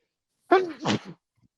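A single short sneeze bursts out alone in a quiet room, one sharp close burst followed by a softer tail and then silence.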